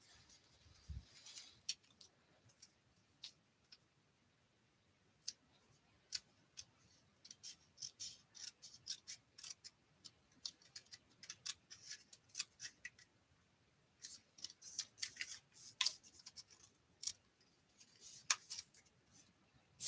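Scissors cut paper for a Christmas paper craft in a quiet room, making sparse, soft snips and crisp clicks scattered irregularly, some in quick clusters, close but faint.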